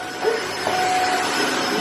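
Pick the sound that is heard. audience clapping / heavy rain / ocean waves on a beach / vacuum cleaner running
vacuum cleaner running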